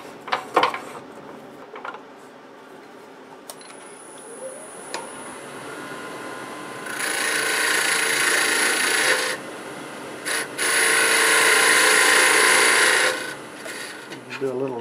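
A quarter-inch bowl gouge cuts a very small brick-style vase spinning on a wood lathe, giving two long, loud scraping passes over the steady hum of the machine.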